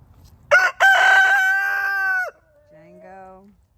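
Roosters crowing on a free-range farm in the rain: one loud, drawn-out cock-a-doodle-doo up close, then a second, fainter crow answering right after, with no talk over them.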